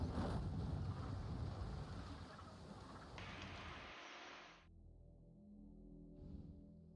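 Wind rushing over a sailing ship's canvas at sea in a pirate video game, a steady broad whoosh with water wash, easing after a few seconds to a lower rumble with faint creaks.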